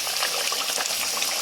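Kachori, a peas-filled Bengali pastry, dropped into hot oil in a kadai, frying with a steady, dense bubbling sizzle that stays close and loud throughout, with no talking over it.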